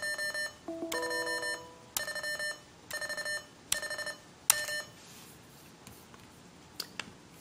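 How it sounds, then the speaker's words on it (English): Short electronic Morse code (CW) beeps sound as characters are typed on a PigPad prototype, in clipped bursts of tones separated by brief pauses, clear and close with no voices. "as I hit each character, it'll give me CW feedback"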